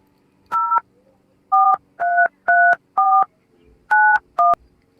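A telephone keypad sends seven sharp touch-tone beeps at close range in an uneven rhythm, each a short steady dual tone, over a quiet background hum.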